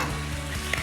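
Bacon frying in a pan with chopped chives and parsley tossed in, a constant close sizzle with a small clink or tap near the end.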